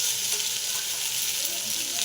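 Onions and tomatoes for tomato chutney sauté in hot oil in a pan, a steady, dense hissing sizzle that stays close and even throughout with no talk.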